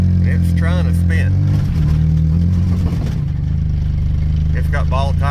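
A 1967 Chevelle on ball tires revs its engine with a steady, loud low drone while its wheels spin on wet ground. People talk over the engine noise.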